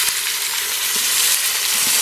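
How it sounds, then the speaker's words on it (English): Sirloin tip beef sears in an Instant Pot, giving a loud, steady, close sizzle and crackle of hot fat with no pauses. "Let me sear it."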